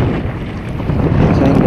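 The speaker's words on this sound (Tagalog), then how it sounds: "Grabe, lakas na rin ng hangin." Strong wind gusting at a fishing spot by the water in Obando on Manila Bay, a steady loud rumbling roar of wind buffeting the microphone throughout, with no talk.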